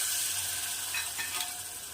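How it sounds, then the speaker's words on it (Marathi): Tomato sautéing in a pan for a homemade vegetable dish, giving a steady close sizzle with faint stirring scrapes. "टमाटर सॉफ्ट होईपर्यंत याला छान परतून घ्यायचं आहे"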